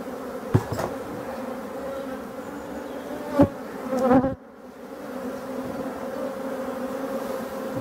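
A hive of black honey bees gives a steady, dense buzz, close and continuous, with a few sharp knocks and brief bursts of louder humming partway through before the drone settles back.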